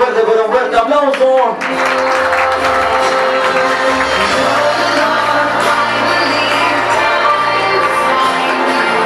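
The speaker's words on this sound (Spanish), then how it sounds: "que venga ese fuerte, pero un fuerte aplauso" An audience claps and cheers for Samuel and Samira at their fifteenth birthday party. Sustained, loud applause and whoops fill the room, and music with a low bass line plays underneath after a brief opening phrase.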